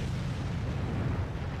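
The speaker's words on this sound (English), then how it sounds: "You can see artillery shell lands right behind me." An artillery shell lands close by in the tank battle game World of Tanks, a heavy rumbling blast that fills the short stretch with a low, sustained roar.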